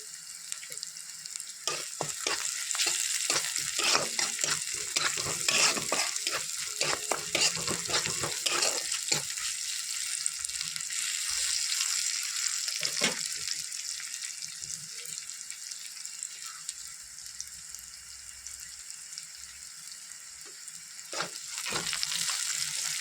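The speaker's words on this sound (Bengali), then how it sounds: "শাক ভাজবো, বেগুন সিম দিয়ে মেথি শাক।" Steady, close sizzling of fenugreek greens frying in a wok with eggplant and beans, with scraping stir sounds and light crackles throughout; no one speaks.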